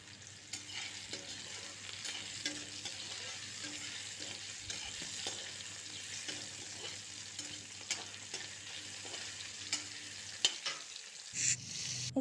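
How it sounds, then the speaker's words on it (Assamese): Tomatoes being stirred in a hot pan with mustard seeds and a dried bhut jolokia chilli for an Assamese sour fish curry, a steady soft sizzle with scraping stirs throughout, no talking. "বিলাহীখিনি ভালদৰে লৰাই দিম।"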